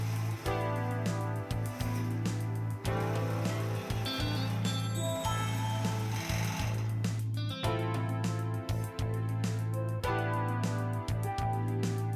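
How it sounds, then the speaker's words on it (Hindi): A sewing machine stitches a T-shirt shoulder seam, its motor humming steadily up close while the needle chatters in rapid, even ticks that briefly slow and resume. "ऐसे ही हम दूसरे शोल्डर पर सिलाई लगाएंगे।"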